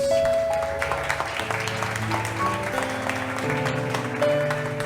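A church congregation applauds during a worship service, a sustained wash of clapping over held organ or keyboard tones and music, steady and moderately loud for the whole stretch.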